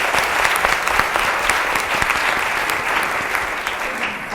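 A conference audience applauds steadily and loudly throughout, a dense wash of clapping with no break, ahead of a historical reenactment about Heart Mountain.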